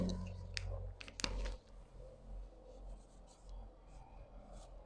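Someone writes on a board while explaining a triangle geometry proof in a classroom, giving quick scratchy strokes and taps in the opening seconds over low background noise, with soft speech underneath.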